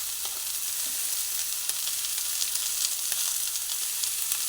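Papaya, capsicum and tomato sizzle in a pan while being stirred with salt, a continuous soft frying hiss with occasional light clicks of a spatula and no talking.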